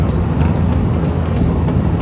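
Interior rumble of a Mazda Miata on a test drive, a loud steady engine and road drone with soft rhythmic thumps, no talking.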